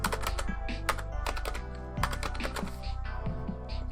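Rapid, close keystrokes on a Steam Deck keyboard entering a login, an uneven run of crisp clicks and taps with no talking.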